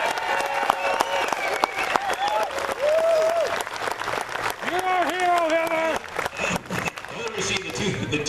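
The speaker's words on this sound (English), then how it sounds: "Go ahead, let's clap for Heather." A crowd at a political awards event applauds Heather Scott, 2015 Legislator of the Year, with loud sustained clapping and cheering while voices and a sung or called melody rise over the applause.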